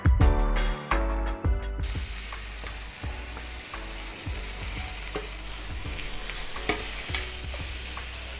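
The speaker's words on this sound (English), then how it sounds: "as that beef colours up, same thing again, always make sure that you control your cooking process as much as possible" Beef sirloin sizzles and fries loudly in a hot pan, with rhythmic stirring or handling sounds near the start and a steady hiss throughout.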